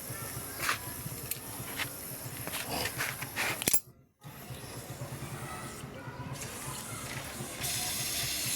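Hissing, gushing water sprays out in bursts as an air compressor tank is drained, cutting off briefly before resuming with a steady rushing hiss, heard up close.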